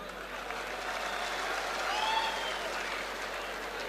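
Audience clapping at a political speech in a hall, a continuous, moderately distant wash of applause that swells slightly midway and carries on steadily, with a faint murmur of voices beneath.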